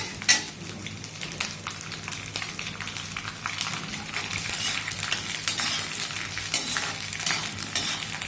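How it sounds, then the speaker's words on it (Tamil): Nylon sago drops straight into hot oil and fries with a loud, dense crackle and hiss. The sound is close and constant, with a metal utensil clinking now and then. "இந்த நைலான் ஜவர்சியை டைரெக்டாக எண்ணெயில் போடணும் நல்ல வீசி பொரியறது"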